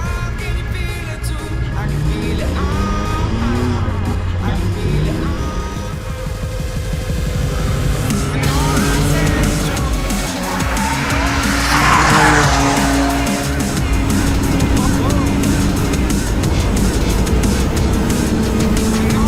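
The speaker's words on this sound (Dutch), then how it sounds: "wij gaan even lekker vlammen over het circuit van Assen" A powerful BMW race car on the Assen circuit roars loudly as it accelerates, engine howling through gear changes with tires squealing and skidding, heard close and continuous throughout.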